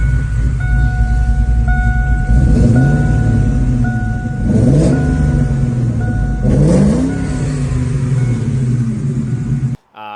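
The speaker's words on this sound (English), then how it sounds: "I do have basically one video of the car running" A Ford Mustang with a rebuilt Cobra engine and aftermarket cams runs close by, idling with a steady low rumble broken by three rising revs, then cuts off abruptly near the end.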